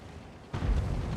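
A single tank cannon shot booms in World of Tanks, a sudden heavy low blast after a quiet moment, followed by a rumbling tail of engine and battle noise.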